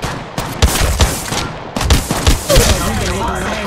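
Rapid bursts of gunfire from the mobile battle royale game Apex Legends Mobile, several sharp shots in quick succession with a brief lull, loud and close amid game effects.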